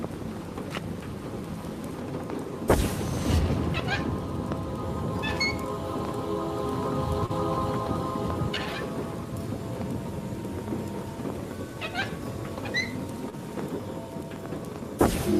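Rain and thunder roll through a storm around a lighthouse in the VR game A Fisherman's Tale, a continuous dense downpour with low rumbles, punctuated by a few sharp cracks and faint chirping sounds.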